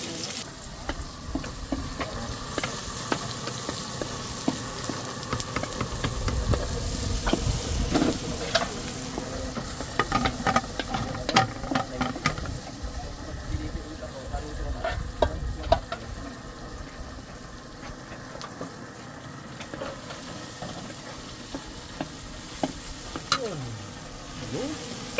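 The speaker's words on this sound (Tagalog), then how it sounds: "Yaman si sibuyas." Onions sautéing in a pan give a long, steady sizzle with frequent crackles and occasional stirring clinks, moderately loud throughout with no talk.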